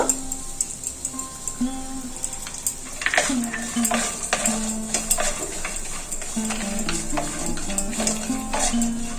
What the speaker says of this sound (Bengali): কাজু কিশমিশটা ভাজা হয়ে গেছে এরপর ঢেলে দেবো